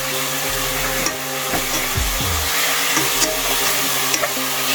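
Garlic and carrots are stir-fried in a pan for pineapple caramel prawn rice, making scraping and stirring noises over a soft sizzle and a constant low hum.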